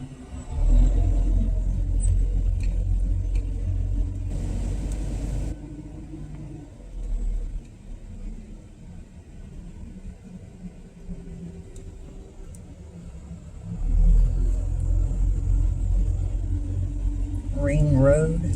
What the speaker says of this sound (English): there's lots of cars coming from the other direction because it's blocked all the way across the road